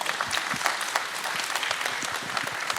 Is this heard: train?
no